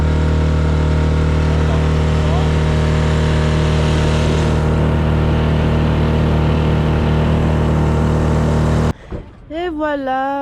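Outboard motor of a small dinghy tender drones steadily and loud for about nine seconds, a constant engine hum with slight rising pitch, then cuts off abruptly as a person starts talking.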